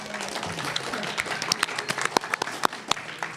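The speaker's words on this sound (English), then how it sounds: "Claps for Lizzie." Audience applause at a MomoCon 2022 fan convention Q&A panel, scattered claps rising into a noisy burst of clapping from a crowded room, with murmuring voices underneath.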